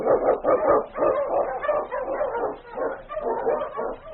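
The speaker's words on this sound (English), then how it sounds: "The Wonder Dog King, swiftest and strongest of Eskimo lead dogs, blazes the trail through storm and snow for Sergeant Preston" A swift, strong Eskimo sled lead dog in an old radio drama barks and yips excitedly in a steady run of loud, overlapping barks close to the listener, with no speech.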